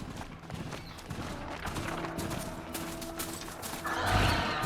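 A horse in the Horizon Zero Dawn video game trots with rhythmic clip-clopping hooves, then lets out a loud, close whinny near the end, with game ambience underneath.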